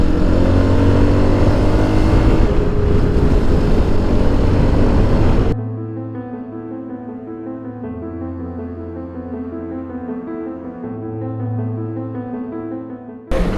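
A motorcycle rides through congested traffic between Tirana and Shkodër in Albania, its engine droning loud and close, then dropping to a steadier idling hum with tonal notes and a brief rise near the end.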